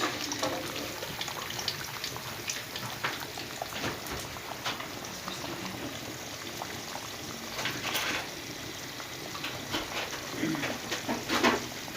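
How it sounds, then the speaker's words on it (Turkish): Rice being rinsed under running water in a home kitchen, a steady watery rush with splashing and scattered clinks throughout, close and continuous. "Pirinçlerimi şöyle yıkadım."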